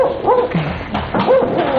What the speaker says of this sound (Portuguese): Não se assustem, por favor. Os cachorros estão na corrente.